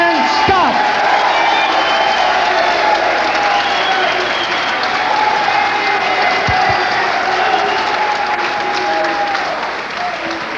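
Loud applause and cheering from a boxing crowd greeting Newark fighter James "Superman" Scott at a prison bout watched by inmates, a dense, sustained roar with whoops that eases slightly near the end.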